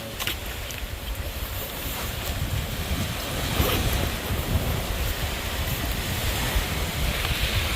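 Ocean surf at a beach in Cabo Rojo, Puerto Rico, a steady broad wash of waves with gusting wind noise on the microphone, with no talking.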